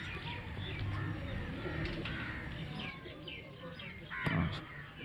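A Lal Badshah racing pigeon belonging to someone coos at a Kharian pigeon-flying competition, soft cooing mixed with other outdoor bird calls, with a voice talking nearby and a brief louder call near the end.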